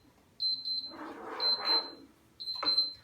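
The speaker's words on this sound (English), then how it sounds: "All right, there's my timer." A kitchen timer beeps in short repeated bursts of high electronic tones, three times, while making cashew brittle on the stove, with soft kitchen rumble between the beeps.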